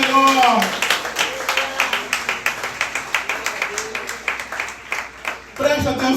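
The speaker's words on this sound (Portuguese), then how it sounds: "Aplauda o Senhor com o seu melhor." A church congregation claps in rhythmic unison during a worship service, sharp regular claps at a brisk tempo, with voices singing or speaking over the start and end.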